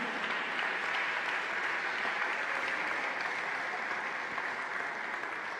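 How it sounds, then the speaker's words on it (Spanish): Dense, steady applause from a church congregation fills the whole stretch, loud and continuous with no pauses and no voices standing out. "Dele un fuerte aplauso al Señor."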